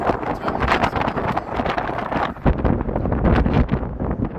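Strong gusty winter wind on a Chicago street before sunrise buffets the microphone, roaring and rumbling in uneven bursts throughout, loud and close.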